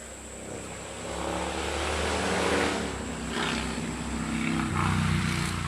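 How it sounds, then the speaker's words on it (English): Loud four-wheeler passing in the distance, its engine drone swelling and fading over several seconds behind a steady high whine, with no talking. "Yes, I hear you loud four-wheeler."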